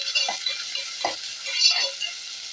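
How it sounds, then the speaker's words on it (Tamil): Chopped onions sautéing in a pan for a spicy mochai bean curry, with a steady close sizzle and frying hiss plus a few soft stirring scrapes, no talking. "இப்போ அது கூடயே நம்ம வெட்டி வச்சு வெங்காயத்தை சேர்த்துப்போம். வெங்காயத்தை நல்லா வதக்கிக்கலாம்."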